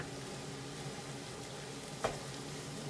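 Minced beef frying in a pan for lasagna gives a steady, dense sizzle throughout, with one brief stirring scrape partway through.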